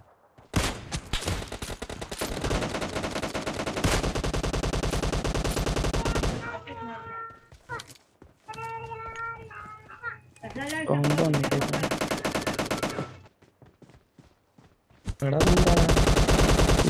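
Rapid automatic gunfire from PUBG Mobile Lite comes in long loud sustained bursts separated by gaps, with softer game effects between the volleys.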